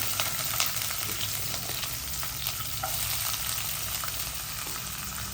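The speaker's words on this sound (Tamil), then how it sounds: "நல்லா பொரிஞ்சிருச்சு வெங்காயத்தை போடலாம்" Onions frying steadily in hot oil for a shark dried-fish thokku, a loud continuous sizzle and crackle close by with no talk.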